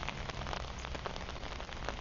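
Steady rain falls on surfaces along a morning street walk from Kathu in Phuket, Thailand, a dense, even patter of drops close by and unbroken, with no voices.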